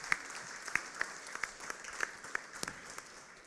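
Scattered, fairly faint applause from an audience at a Slovenian public event on Europe's shared future, with a handful of distinct claps standing out over a soft wash of clapping for the whole clip.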